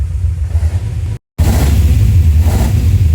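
An LS V8 swapped into a Datsun 280Z runs with a loud, steady low rumble and rev surges. A brief dropout of silence splits the sound partway through.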